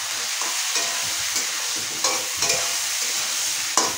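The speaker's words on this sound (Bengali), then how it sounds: "তেলটা গরম হয়ে গেছে, আবার বেগুনগুলো ভেজে নিচ্ছি" Brinjal (eggplant) pieces fry in hot oil with turmeric. A continuous close sizzle is broken by several sharp scraping stirs from a spatula in the pan.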